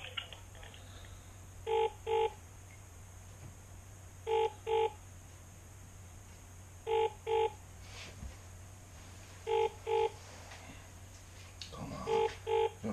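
A telephone gives off repeated paired ringback tones in a regular rhythm, five double bursts spaced a few seconds apart over a low background hum, with no speech.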